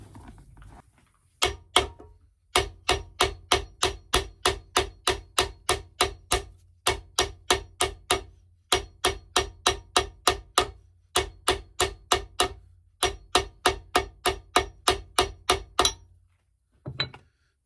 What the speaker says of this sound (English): By hammering the leather, it's making it tighter.